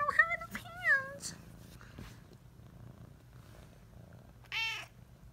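House cat meowing several times in rising, drawn-out calls, with a low purr rumbling underneath and a person speaking softly nearby between the meows.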